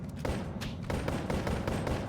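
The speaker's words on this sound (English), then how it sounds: "Uh-oh. Gunfire." Gunfire in the VR game Boneworks: a few dull, thudding shots in close succession over a muffled background rumble, no voices.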